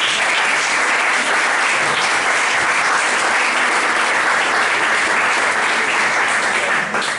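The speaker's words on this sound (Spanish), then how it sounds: "y un fuerte aplauso por favor para Julián." Steady, loud audience applause fills a book presentation from start to finish, a dense wash of clapping from a crowd with no break.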